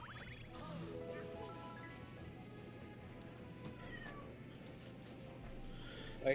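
A pet cat meows faintly in the background, a quiet, drawn-out call beneath a steady hum, with faint background sound during a Super Mario Galaxy speedrun session.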